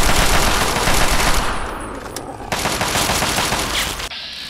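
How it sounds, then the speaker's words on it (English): Minigun fire in the video game Fallout 3 on PC, a loud, continuous roaring burst of rapid shots that fades slightly toward the end, with no talking. "another one of the mini guns"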